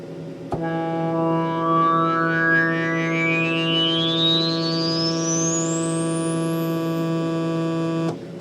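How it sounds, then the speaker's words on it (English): A Korg MS-10 synthesizer holds a steady buzzing tone for about eight seconds while a slow filter attack sweeps a bright resonant whistle steadily upward in pitch, loud and close with no voice. "a slow attack time might sound something like this"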